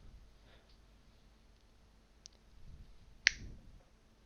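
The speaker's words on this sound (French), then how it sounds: "d'un claquement de doigts" A single crisp finger snap rings out near the end of a hushed hypnosis session, sharp and close against a near-silent background, preceded by a fainter click.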